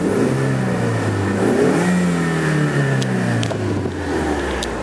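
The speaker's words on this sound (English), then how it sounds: "And you can just hear the beautiful sounds that this car makes." A 2015 Ford Mustang Roush Stage 1 engine revs up and settles, its deep exhaust note rising and falling loud and close, with no talking over it.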